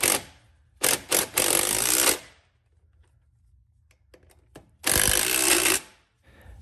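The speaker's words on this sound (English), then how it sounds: "we're just going to drive these up through the bottom" Impact wrench bursts driving 15mm bolts up through the bottom of an Arnott front strut on a GMC/Chevy Magnaride SUV or truck: two close rattling runs, a pause, then one more burst, loud and near with no talk.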